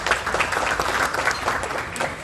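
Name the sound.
round of applause for the Villa Blanca staff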